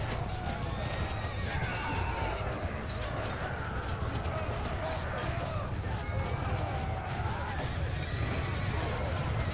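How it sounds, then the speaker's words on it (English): Cavalry charge in the Bannerlord battle game, many horses galloping in a dense, continuous clatter of hooves mixed with battle noise and crowd shouts, loud and sustained throughout. "Oh, the horse charge."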